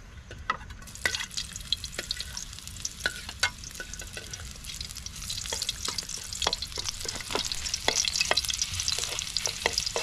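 Garlic sautéing in cooking oil makes a building sizzle punctuated by frequent sharp spatters and ladle scrapes, close and continuous, growing busier toward the end, with no talking.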